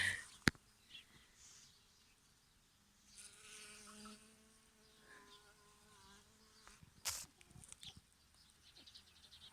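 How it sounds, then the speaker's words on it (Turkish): Bees buzz among squash flowers, a faint droning hum that rises in the middle, with a few sharp clicks and rustles around it. "Çok şükür bütün kabak çiçeklerinin içinde arılar var"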